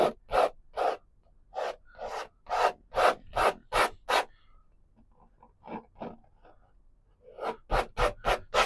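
A stiff brush scrubbing dark mountain-mixture paint into canvas, a run of short, bristly rubbing strokes up close, a brief pause with lighter dabs, then another quick burst of scrubbing.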